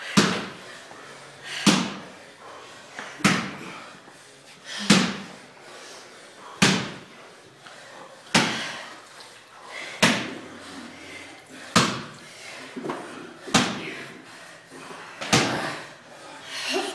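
Ball slams during a workout, about ten sharp, loud impacts hitting the floor at a steady rhythm every second and a half or so, each with a short ringing tail.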